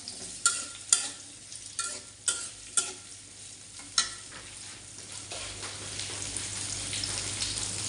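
Onions frying in a pan for a prawn dish, with a soft continuous sizzle broken by several sharp scraping stir strokes early on, then a steadier quiet frying hiss.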